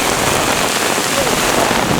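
Close, loud downpour from a severe Brooklyn thunderstorm, rain drumming evenly on surfaces in a continuous hiss for a couple of seconds.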